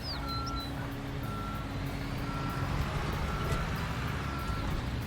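Repeated reversing beeps from a backing truck in Construction Simulator 2022, steady and moderately loud over a continuous low engine rumble, with no talking.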